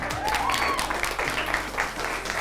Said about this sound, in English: So a huge round of applause to Fraser Johnson.